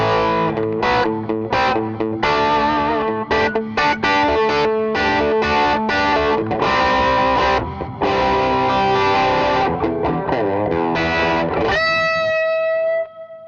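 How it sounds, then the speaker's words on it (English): Electric guitar through the drive channel of a Dual Clones preamp, noise gate engaged, plays loud, distorted choppy chords and riffs in a rhythmic stream, ending on a sustained ringing note that decays cleanly. "we have the drive channel of the dual clones, and we have the noise gate on, which is getting rid of the background noise"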